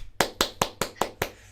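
Six evenly spaced claps ring out in a classroom, crisp and close at a steady rhythm about every fifth of a second, with no talk over them.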